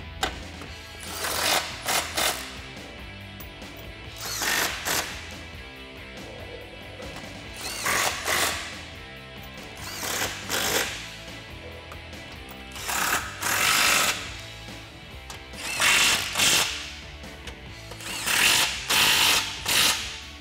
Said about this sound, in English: Grab my cordless impact and just send these home.